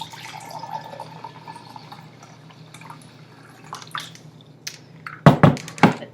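White vinegar and water poured into a mixing jar for a homemade cleaner, a faint liquid trickle and drips under a steady low hum, ending in a couple of louder splashing pours near the end.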